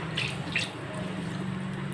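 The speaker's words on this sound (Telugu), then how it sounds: "ఇప్పుడు ఇందులో మనం ముందుగా తీసి పెట్టుకున్న చింతకాయ పులుసు కూడా వేసుకుందాం" Tamarind juice poured into a pot of fish curry, a soft, brief liquid splash and trickle, faint and close, with no talking.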